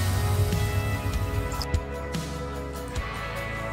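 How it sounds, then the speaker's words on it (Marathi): Water is poured over half a kilo of rice in a vessel for washing, making a steady, close splashing rush with a few soft drips and knocks, and no voices. "तांदूळामध्ये पाणी घालणार आहे।"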